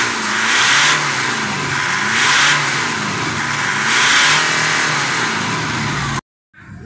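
The diesel engine of a 2010 Mitsubishi Dakar is revved in three distinct swells, rising and falling over a steady idle, loud and close, then cutting off abruptly at the end.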